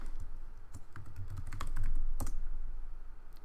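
Someone types a username and password on a computer keyboard, a close run of irregular key clicks with a few louder strikes, quiet room background, no speech.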